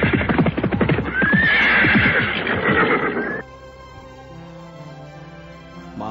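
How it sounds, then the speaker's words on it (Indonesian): Several horses ride across hilly country in an audio drama, with rhythmic clip-clop hoofbeats and a whinny over the first three seconds, then a quieter musical bed. "Mereka terus berkuda melintasi daerah yang berbukit-bukit."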